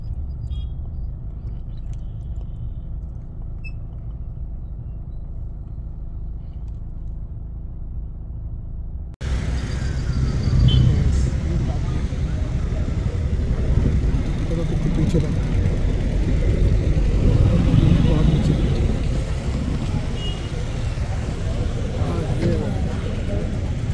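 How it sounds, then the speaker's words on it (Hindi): Cars and other vehicles idle in a long queue at a petrol pump on Sahastradhara Road during a drivers' strike, a steady low engine rumble that grows louder partway through, with people talking over it. "तो गाड़ियाँ आ ही रही है, अभी लाइन पर लग रही है।"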